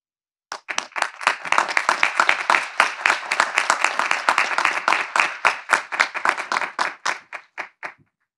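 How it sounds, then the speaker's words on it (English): A crowd at a 2021 College of Coastal Georgia graduation ceremony claps for the guests, sustained, close applause that swells quickly, holds steady for several seconds, then tapers off to a few final claps. "let's give them a round of applause"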